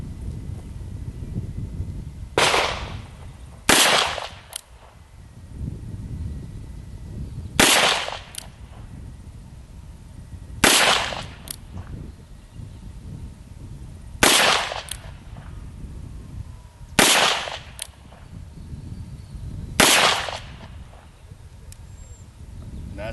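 Colt Official Police .38 Special revolver fired single action outdoors, about seven sharp loud shots spaced a few seconds apart with short gaps of breezy wind noise between them.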